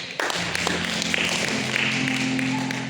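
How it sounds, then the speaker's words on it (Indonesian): A church congregation claps at a Saturday worship service, with steady, sharp claps running over sustained music throughout. "Tepuk tangan kepada Yesus."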